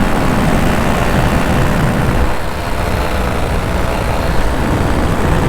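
Steady, loud drone of a light aircraft's engine and propeller heard from inside the cabin in bumpy flight, a dense continuous roar with a brief dip midway and no talk.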